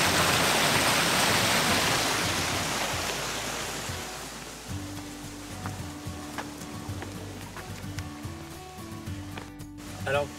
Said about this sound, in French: ça devient des cascades ou des chutes sur l'eau ici.